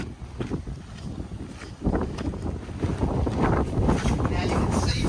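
Gusty wind buffets the microphone while a camper tent is packed up outdoors, a steady rumbling roar that swells louder partway through and stays strong to the end.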